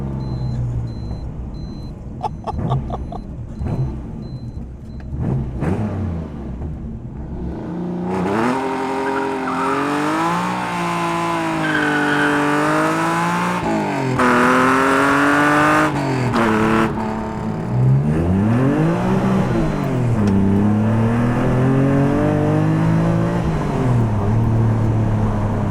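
TVR Sagaris engine revving hard under acceleration on the road, a deep raspy note climbing and dropping through long gears, loud and sustained from inside the car with no talking.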